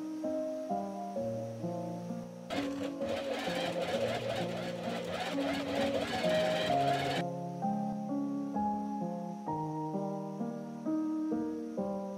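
A sewing machine sews a gathered ruffle onto the bottom of a corset top in one steady burst of stitching lasting several seconds, heard under continuous background music.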